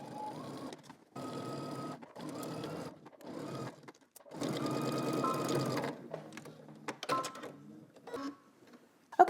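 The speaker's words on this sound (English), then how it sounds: "we're going to head to the sewing machine. We're going to stitch this" A sewing machine stitches a skirt waistband seam in several steady bursts of rapid stitching, stopping and starting, followed by clicks and handling noises nearby.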